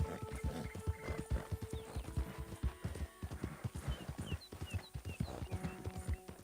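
Horse hooves clip-clop in a steady, quick rhythm while riding in Red Dead Redemption 2, close and prominent throughout, with faint birdsong chirps layered above and no talking.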